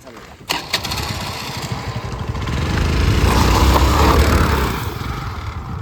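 A Honda Activa scooter starts up with a short cranking burst, then its small engine runs and revs up before settling back, with people talking nearby.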